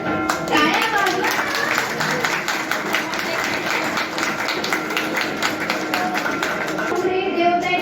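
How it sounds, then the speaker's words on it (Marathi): An audience claps at an annual postal division award ceremony in Ahmednagar, Maharashtra, with dense, sustained applause filling the room from start to finish and voices audible beneath it. "टाळ्या वाजवा."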